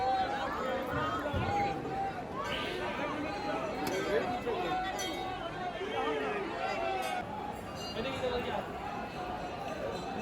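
Dense crowd of pilgrims at the Baidyanath temple in Deoghar on a crowded Trayodashi day, a steady roar of overlapping voices and shuffling, continuous and close throughout.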